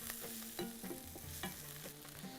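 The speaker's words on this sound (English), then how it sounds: "I'm having these onions getting goldish." Onions fry in a pan for chicken machboos, a soft sizzle under repeated scraping and clinking strokes of a spoon stirring them, close and fairly quiet.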